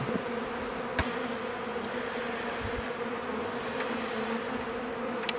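Honeybees at a hive hum in a steady, close buzz that holds evenly throughout, broken by a few faint clicks and bumps.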